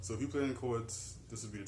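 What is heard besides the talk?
None of the usual background noises is heard.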